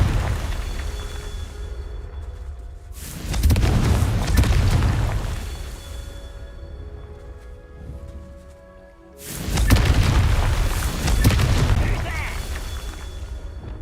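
Two heavy, booming blasts from the Confringo explosive spell in Hogwarts Legacy burst out several seconds apart over a steady bed of game ambience and music, each one loud and rumbling before it fades.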